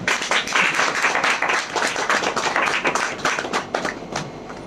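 A church congregation claps together during a worship service, a dense, steady burst of many hands that carries on for several seconds before thinning slightly toward the end.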